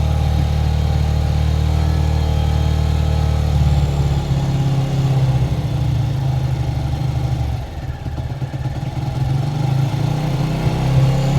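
A TVS motorcycle engine idles steadily up close while its carburetor air screw is adjusted, a continuous low throbbing putter with a brief dip in loudness partway through; no talking.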